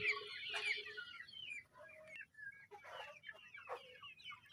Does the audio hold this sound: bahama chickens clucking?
yes